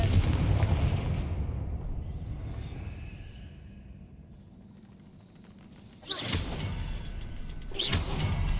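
In the video game Hogwarts Legacy, a Confringo spell is cast and explodes, a deep rumbling boom fading out, then two sharp cracking blasts ringing out loud and close.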